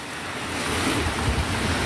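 Big sea waves stirred up by Typhoon Uwan roar near a small outrigger boat, a brief, loud, steady wash of surf blended with gusting wind.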